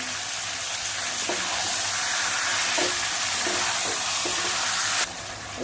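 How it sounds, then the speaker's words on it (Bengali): Chicken and fried potatoes stir-fried in a pan, loud continuous sizzling with repeated scraping strokes of a spatula, the sizzle dropping sharply near the end. "চিকেন খুব ভালো করে কষে নেব।"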